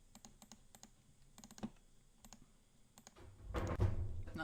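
Quick keyboard typing and mouse clicking in the Nancy Drew game The Deadly Device, soft, sparse clicks that swell into a louder burst of clatter near the end.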